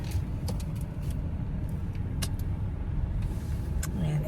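A car moving along at a steady pace, with a continuous low road and engine rumble and a few faint clicks and rattles inside the cabin.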